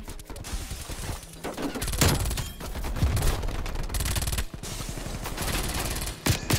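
Rapid automatic gunfire from the video game Call of Duty: Black Ops Cold War, loud dense bursts of shots continuing almost without pause, with a few sharper louder cracks standing out.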